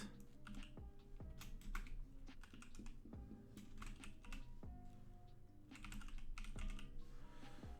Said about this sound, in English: Now you want to type the following command.